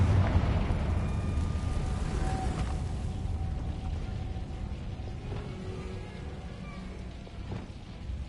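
Fiery explosion from the Confringo spell in Hogwarts Legacy, a heavy rumbling burst that starts strong and slowly fades into a low, crackling roar.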